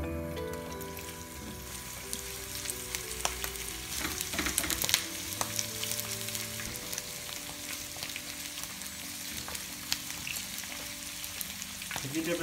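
Vegetables frying in about 100 ml of hot oil over low heat for a Spanish vegetable omelette, a constant sizzle with scattered clicks and scrapes of stirring, close up and without speech.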